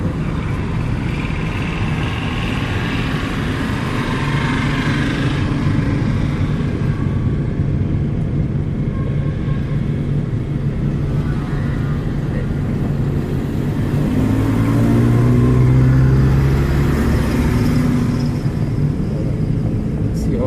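A car engine hums and rumbles steadily through a slow automatic-transmission drive, with a deeper surge building toward the end as the accelerator comes in; voices murmur inside the cabin.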